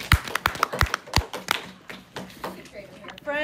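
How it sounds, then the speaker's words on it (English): Students in a classroom clap a short series of sharp, separate claps in a loose rhythm, followed by scattered taps and classroom chatter. "clap 6 times."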